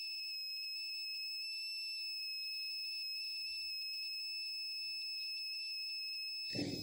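A shrill electronic alarm from an Arduino medicine reminder buzzer sounds steadily on its own for several seconds, a piercing high-pitched tone, ending with a brief burst of noise.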